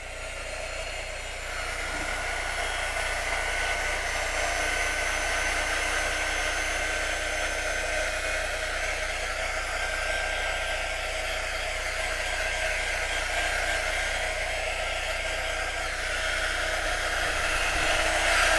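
A hair dryer blows over chalk paste on a Halloween sign, a steady, close whooshing hum that starts after a quiet moment and runs continuously to the end.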